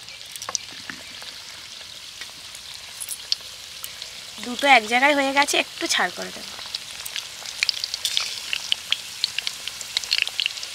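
Wheat-flour snack pieces fry gently in oil over medium heat, a quiet continuous crackle and sizzle with scattered pops. A person speaks briefly partway through.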